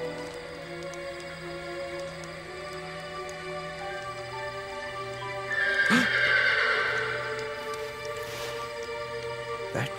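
A wild Brumby horse neighs once, a loud shrill whinny rising over a steady background drone, followed by quieter ambient sounds.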